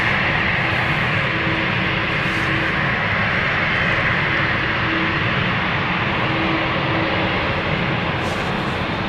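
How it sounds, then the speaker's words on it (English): Albany Air Services aircraft flying downwind near London City Airport, a steady, loud engine roar with a faint tonal hum running throughout and no voices. "that is our final flight of the day with the Albany Air Services"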